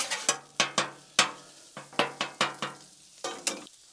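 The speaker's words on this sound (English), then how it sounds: "just every now and then come in here, give it a mix and a chop. Keep things cooking." Sausage cooking on a Blackstone flat-top griddle, with a spatula striking the metal in quick sharp scrapes and chops at an uneven rhythm over a faint, soft sizzle.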